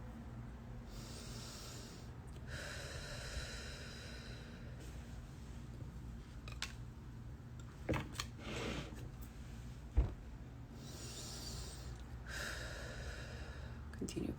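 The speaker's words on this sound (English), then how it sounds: "Continue to take deep breaths, as this is going to help to get you more in a state of rest." Slow deep breaths during a relaxation exercise, close airy inhales and exhales repeating in long cycles of a few seconds each, with a couple of soft knocks and no talk.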